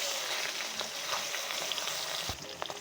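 A hilsa fish head frying in hot oil with black cumin seeds sizzles with a steady, close crackling hiss and occasional sharper pops and stirring clatter, with no talking.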